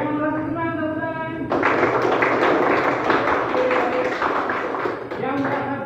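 A classroom of students claps together in a lively, dense flurry of taps after a teacher's voice, continuing for several seconds before talk resumes.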